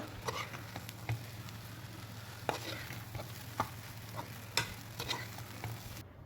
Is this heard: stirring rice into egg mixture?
yes